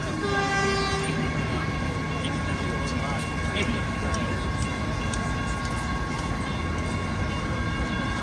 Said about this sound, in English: There's a train coming right now.